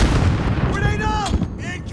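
A grenade blast in a first-person shooter game, a loud booming burst amid continuous gunfire and game noise, with brief shouted callouts over it.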